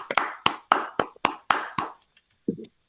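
Several people clap over open microphones in an online class, giving about eight sharp, separate claps in an uneven rhythm before the sound breaks off into near silence and one last soft tap.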